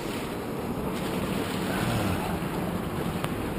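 Ocean surf and tide rolling onto a sand beach make a steady, broad wash of noise, with wind buffeting the microphone throughout and no voices.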